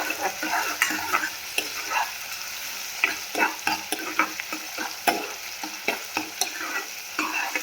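Garlic being stirred into brinjal curry in a frying pan, a spoon scraping and clattering in an irregular rhythm over a steady close sizzle, no voices.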